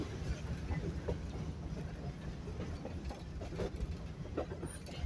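A train rolls along with a heavyweight Pullman railroad car built in 1924, making a steady, moderately loud rumble with faint rhythmic clicking of wheels over rail joints throughout.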